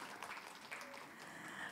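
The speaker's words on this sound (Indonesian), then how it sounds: "Sekali lagi kita kasih tepuk tangan yang meriah" Applause from a church congregation at a Christmas service, a soft, steady wash of many hands clapping, heard at a distance and fairly faint throughout.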